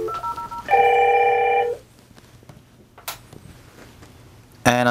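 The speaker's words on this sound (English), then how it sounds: "When the visitor presses the extension number from our IP-based video door phone, let's go ahead and press 2000." An AddPac IP video door phone calling an intercom extension gives a short electronic ringing tone: one clear buzzy burst of about a second, a quiet gap with faint clicks, then another ring starting.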